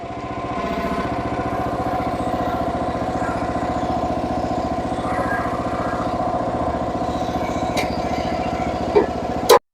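A cold YardMax 25 ton log splitter engine runs steadily through testing, giving a loud, continuous small-engine drone with an even rhythmic chug, then a couple of sharp metallic clanks right at the end.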